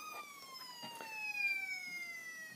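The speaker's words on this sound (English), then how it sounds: "little siren on the top" A thin electronic siren from a Brio toy fire engine wails with steady descending tones, faint and tinny, with light clicks and rattles underneath.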